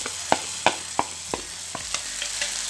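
Spices being stirred into a tomato fish gravy in a pan, heard as a series of sharp spoon scrapes and taps spaced about a third of a second apart over a soft sizzle, close and moderately loud, with no voices.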